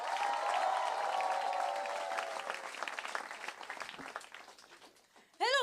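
An audience applauds as comedian Neeti Palta walks on stage at a stand-up comedy show in Mumbai. The clapping is steady and full at first, then thins and fades toward the end, followed by a brief voice.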